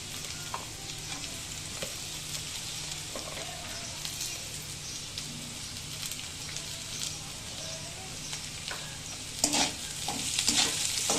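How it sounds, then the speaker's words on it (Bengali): Chopped onion fries in a pan with pre-fried carrot and potato for Bengali rice bhuna, a steady moderate sizzle with a burst of louder crackling and stirring toward the end. "এই গাজর আলুটা কিন্তু আমি একটু ভেজে নিয়েছি। ভেজে নেওয়ার পরে এখন দিয়ে দেবো একটু পেঁয়াজ কুচি।"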